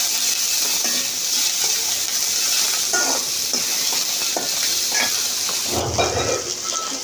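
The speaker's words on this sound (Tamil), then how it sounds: "எல்லாம் சேர்த்து நல்லா வதங்கி வரக்கூடிய மாதிரி நல்லா கிளறி விடணும்." Onions, green chillies and spices sauté in a pan with a continuous close sizzle and hiss, broken by occasional stirring scrapes and a louder clatter near the end.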